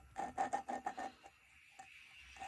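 A valve is lapped into an engine block with oil, making a quick series of about six soft, close rasping grinds in a rhythmic burst, then fainter, sparser rubs.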